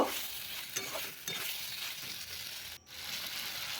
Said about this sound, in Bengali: ভাজা ঢ্যাঁড়সগুলো দিয়ে দিলাম দিয়ে ভালো করে কষিয়ে নেব